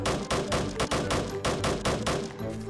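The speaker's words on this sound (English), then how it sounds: "He's trying to shoot me." Rapid gunfire in the Roblox Military Tycoon video game, a steady rhythmic string of loud close shots firing in quick succession for a few seconds.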